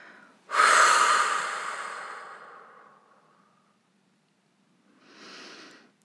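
A long, breathy exhale released after a gentle held breath in a sophrology relaxation exercise, starting strong and fading slowly over a few seconds, followed by a softer second breath after a pause.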